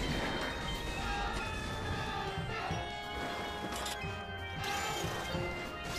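A train in the Sam & Max: Beyond Time and Space video game gives a continuous loud rumbling clatter with metallic bangs and crashes, steady throughout with no talking.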